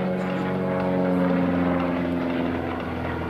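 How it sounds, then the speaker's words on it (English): A Fliegerschule F-260 aerobatic propeller plane roars at full 260-horsepower power through an airshow maneuver, a steady loud droning engine with strong harmonic tones, sustained throughout without a break. "Full 260 horsepower on as he tumbles the aircraft off the top"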